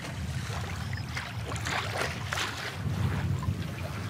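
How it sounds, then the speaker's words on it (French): A flat-bottomed nacelle boat is pushed with a long pole across the Vacarès lagoon, giving soft water swishes and sloshes under steady wind noise, with no talking. "Avec la nacelle, ce bateau à fond plat,"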